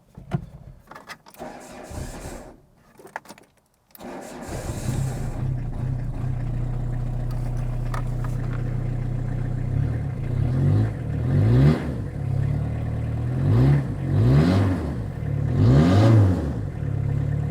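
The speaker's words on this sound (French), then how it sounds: "Ça fait un sale bruit de mazout, mais c'est pas trop fort du tout" A diesel engine with a newly fitted homemade stainless steel exhaust cranks and catches after a few short bursts, settling into a loud idle, then revs rise and fall several times close by.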